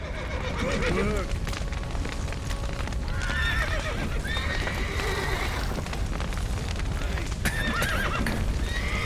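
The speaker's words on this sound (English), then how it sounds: "The horses!" Horses in The Witcher 3 video game whinny several times over a steady clip-clop of hooves, loud and close against a dense rumbling background of fire and a collapsing building.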